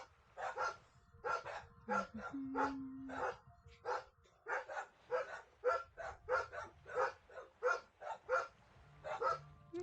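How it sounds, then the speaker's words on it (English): Several dogs bark loudly and repeatedly in quick bursts, close by, with some yips mixed in and no talking over them. "Sorry about the loud doggos."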